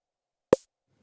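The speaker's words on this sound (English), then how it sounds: "There's a simple snare" A single short snare hit from an SSF Entity modular synth drum module, sharp and bright with a quick decay, alone against silence.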